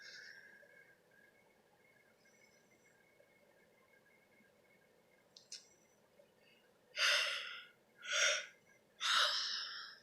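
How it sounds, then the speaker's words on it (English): A sleeping woman breathes heavily. After a quiet stretch, three loud, gasping breaths come close together, each a strong rush of air. "It's like she's a heavy breather when in her sleep."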